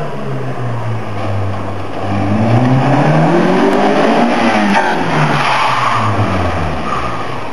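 A scratch-built mid-engine sports car starts and pulls away, its engine droning low then rising and falling through revs as it drives off, loud and close with no talking.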